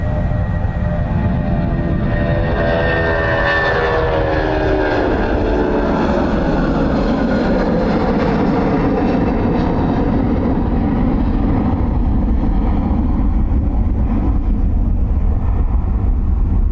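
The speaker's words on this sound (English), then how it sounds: "Probably the oldest aircraft we've seen take off and the earliest up." A loud aircraft roars steadily down the runway on takeoff at Dublin Airport, its engine tone rising and sweeping as it passes close by and then fades into a broad rumble.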